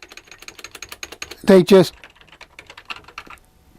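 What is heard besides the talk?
typing on ZX Spectrum Plus case keyboard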